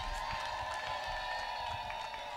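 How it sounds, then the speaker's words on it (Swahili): A church congregation ululating in praise, a sustained high trilling wash of many voices with cheering and clapping, steady and fairly loud throughout. "Vigelegele tena kwa Bwana wetu."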